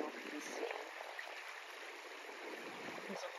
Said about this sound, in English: I'm standing here next to this little creek.